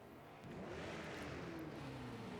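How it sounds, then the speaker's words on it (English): Race car engines in the RENNSPORT racing game rise together into a dense, sustained roar at the race start at the Nürburgring GP, loud and continuous with rising engine tones. "As we can hear the engines rev up"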